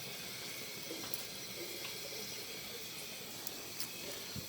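A water hose flushes the coolant system of a Mazda RX7 FC, producing a continuous hissing rush of running water with a few faint clinks near the end.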